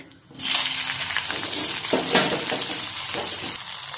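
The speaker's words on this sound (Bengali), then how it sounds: "দিয়ে দিচ্ছি কেটে রাখা পেঁয়াজ।" Chopped onion hits hot mustard oil seasoned with a dried chilli and cumin, bursting into a loud, close, steady sizzle that continues with stirring until the end, no voices present.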